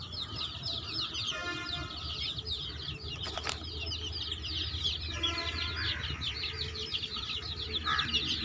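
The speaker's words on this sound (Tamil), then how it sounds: "கோழி குஞ்சு" Chicks and hens clucking and peeping close by, with repeated chirps and clucks, an occasional flutter of wings and a sharp knock partway through, over steady background noise.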